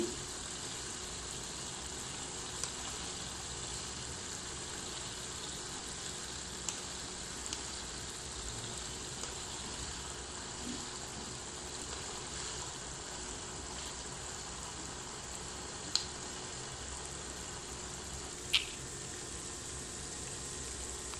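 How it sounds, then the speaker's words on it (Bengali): Beef kofta meatballs fry in a pan with a faint, steady sizzling hiss and an occasional sharp pop or spatter, heard close with no talking. "এখন আমাদের মিটবলগুলো ভাজতেছে, ভাজা হইতেছে, আর একটু সময় লাগবে, লাল হয়নি এখনো।"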